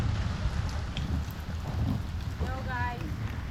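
Heavy rain falls on a mountain trail, a steady dense hiss of drops throughout with low rumbling underneath and a faint voice briefly audible.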